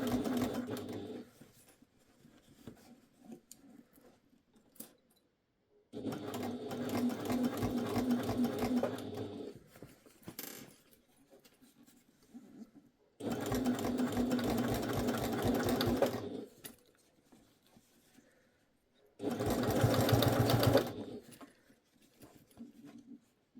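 A sewing machine stitching a fabric pouch lining runs in four bursts of fast, even stitching, with quiet gaps of handling between them.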